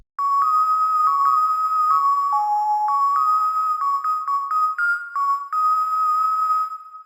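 A bright, glassy synth lead from a Serum preset, playing a steady, sustained melody with quick note changes and bell-like overtones, loud and alone.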